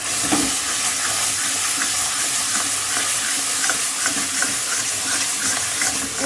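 Ground mustard paste sizzles hard as it hits a hot pan, a loud, dense and continuous frying hiss with stirring scrapes and no speech.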